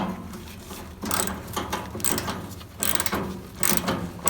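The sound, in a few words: undoing tight bolts on Bolens HT23 tractor bonnet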